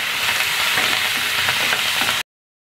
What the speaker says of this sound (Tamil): நிறையா கருவேப்பிலை போட்டு வதக்கிக்கணும்